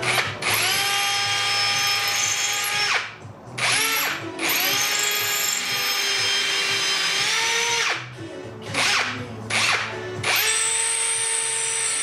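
A power drill drives screws into the glued, biscuit-jointed corners of a wooden coffee table, running in several loud, sustained whirring bursts of a few seconds each, separated by brief pauses, with no talking.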